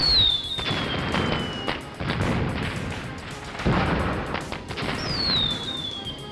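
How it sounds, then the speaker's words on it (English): Crates of firecrackers going off in the video game Normality, rapid crackling bangs and booms in dense irregular bursts, loud and close, with whistling fireworks rising and falling over them. "Those crates are full of firecrackers!"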